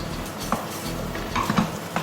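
Karahi keema mince with kasuri methi is stirred and fried in a pan: a steady sizzle with a spatula scraping and occasional metallic clinks against the pan, close and continuous, no talk.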